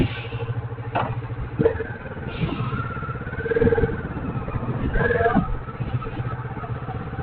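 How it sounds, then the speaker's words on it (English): An unrestricted 2016 Kawasaki Vulcan S motorcycle engine runs nearby, a steady rumbling idle with a few short revs swelling and fading over several seconds. "Let's start the final test. Complete unrestricted bike."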